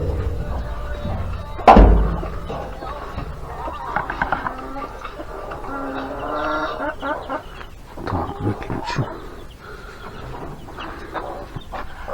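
Chickens clucking in a backyard coop next to a rabbit hutch, with a sharp bang early on, then repeated nearby clucks and cackles over quiet rustling.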